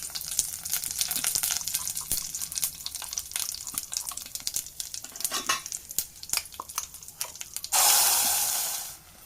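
Ground masala paste poured into a pan for green peas curry, with busy stirring scrapes and a steady sizzle, ending in a bright rushing hiss as the wet paste hits the hot pan.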